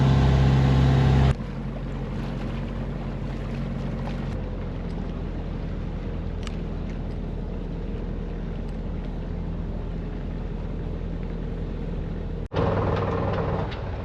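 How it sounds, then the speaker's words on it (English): The inboard motor of a 1969 Alden 32 sailboat chugging steadily in LA Harbor, a loud, continuous low drone that holds evenly throughout, with a brief louder surge at the start and near the end. "We've got the motor on and we are in LA Harbor."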